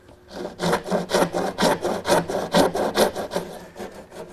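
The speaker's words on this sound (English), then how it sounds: "I'm going to use a dovetailing saw to make a shoulder cut at the top and bottom" A dovetail saw cutting tenon shoulders across wooden slats for a Morris chair makes about nine crisp, evenly paced back-and-forth rasping strokes, close and loud, with no voices.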